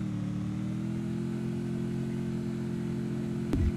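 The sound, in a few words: motorcycle engine while riding a bike in the video game Free Fire MAX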